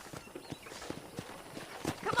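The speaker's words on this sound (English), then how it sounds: "I picked out a fine horse for you." Horse hooves clip-clopping with a whinny in the Red Dead Redemption game at a ranch, the steps soft and steady under a voice, ending in a brighter, louder burst.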